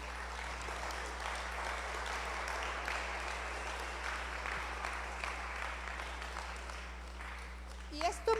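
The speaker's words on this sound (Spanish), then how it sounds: "Dale un aplauso al Señor" Steady applause from a crowd, a continuous wash of clapping held at an even level over a low hum.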